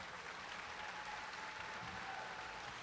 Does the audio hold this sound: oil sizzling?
no